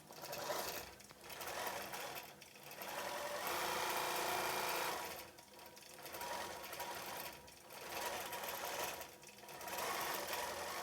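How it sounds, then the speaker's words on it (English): A sewing machine stitches a quilt in rhythmic runs, a fast whirring chatter that pauses briefly several times before starting again, close and steady. "just watch it while it's stitching, because you're going to come back and just do exactly what the machine is doing at this point"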